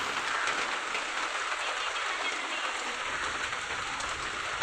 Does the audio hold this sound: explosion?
no